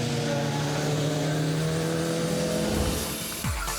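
A Radical race car at Donington Park drives loud and close through the chicane during a 2006 Radical Enduro Cup race, its engine droning steadily, then dropping pitch sharply as it brakes and changes gear near the end.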